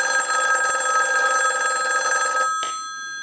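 A Western Electric 554 rotary wall telephone rings, its bell driven by a line analyzer on the repair bench: a loud, steady metallic trill that runs for about two and a half seconds and then stops abruptly, leaving a short faint tail.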